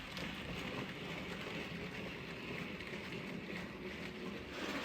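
A model train runs steadily around a layout, its continuous rolling rumble and faint clicking carrying at an even level throughout, close by and without any talk over it.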